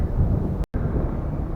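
Strong wind buffeting a microphone on a shoreline while fishing at very low tide, a dense low rumble with one brief dropout.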